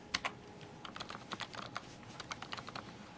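Fingers type on a US-layout computer keyboard during Windows Phone app development, producing a quiet, irregular run of sharp key clicks with brief pauses between bursts, no voices.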